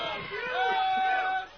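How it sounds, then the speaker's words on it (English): Rowdy drunk crowd outside Fenway Park in Boston on baseball opening day, a blur of shouting and chatter with a raised voice on top, loud and close. "A bunch of drunk people outside of Fenway Park opening day."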